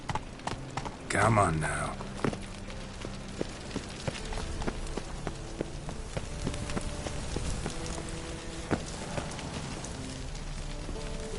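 Roach, a horse in The Witcher 3 video game, clip-clops along at an unhurried pace, hooves tapping steadily amid faint rain-like ambience while someone speaks briefly over it.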